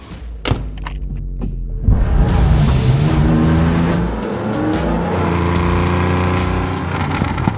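A Porsche 911 SC RS rally car with a 3-liter engine and an 8,000 RPM redline drives hard nearby. Its engine note climbs loudly through the revs, with a brief tire squeal, and no one speaks.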